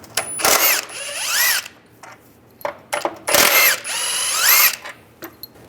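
A powered socket tool on a 13mm socket whirs up and down in short bursts while removing steering rack bolts on a Volkswagen Beetle, with ratcheting clicks between the runs.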